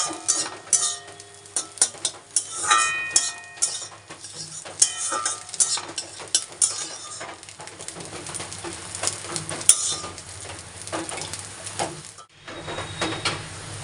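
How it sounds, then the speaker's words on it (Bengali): Onions and green chillies fry in oil for pasta, a close sizzling hiss under repeated spatula stirring and scraping against the pan, with faint birdsong in the background and no talk. "ফার্স্টে একটু তেল দিব তেল দিয়ে তারপরে পিঁয়াজ আর লঙ্কাগুলো দিয়ে দেবো"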